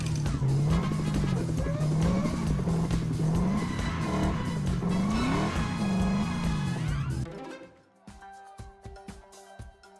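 A Lego car races in 2K Drive on Xbox Series X with a loud, rising and falling engine whine and tire squeal, then the engine cuts out abruptly, leaving sparse clicks and thuds.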